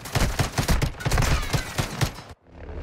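Rapid burst of automatic gunfire in a Call of Duty match, a dozen or so close, loud shots in quick succession that stop abruptly, leaving a faint background hum.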